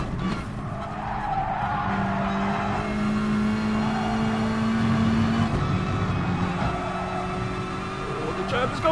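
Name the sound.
race car spinning and skidding in a racing video game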